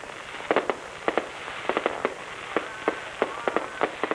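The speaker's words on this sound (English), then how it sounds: "They're going to do the fireworks." Distant fireworks at a speedway pop in scattered sharp bursts, sometimes in quick pairs, over a steady hiss of background noise.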